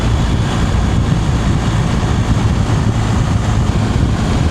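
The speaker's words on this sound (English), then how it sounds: "it is certainly windy" Loud, constant wind buffeting the microphone while riding a BMW GS Adventure motorcycle on a highway, a dense low rumble that never lets up, with no voices.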